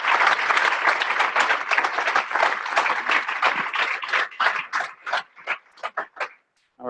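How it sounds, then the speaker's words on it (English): Applause from the audience after a tech meetup panel, a full crowd clapping loudly at first, then thinning into scattered individual claps before fading out near the end. "let's give a big round of applause"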